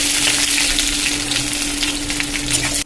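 Chopped onion hits hot oil in a wok that already holds dried red chilli, bay leaves and whole cumin, giving a loud, steady, close sizzle that runs unbroken to the end.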